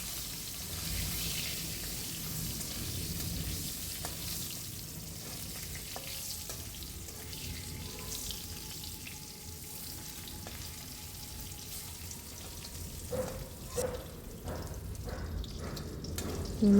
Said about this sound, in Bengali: সেটা আমি একটু ভেজে নেব।